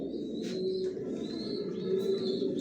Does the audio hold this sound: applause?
no